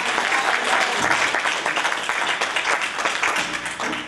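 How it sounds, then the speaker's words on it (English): Church congregation applauding at a Sunday service, a dense, steady wash of many hands clapping close and loud throughout, without any talk over it. "Let us give him a hand clap of applause."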